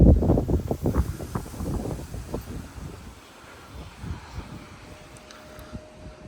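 Wind on a windy morning outdoors, buffeting the microphone in loud, rumbling gusts that ease off partway through into a fainter, steady rush.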